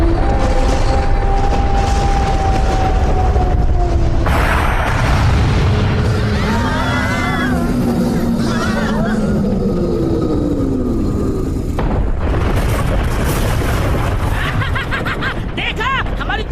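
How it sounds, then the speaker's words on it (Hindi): A loud cartoon cannon in a Hindi-dubbed Doraemon adventure booms amid continuous rumbling battle effects, whistles and music, with voices speaking over the din. "देखा हमारी तेज आवाज वाली तोप की ताकत को।"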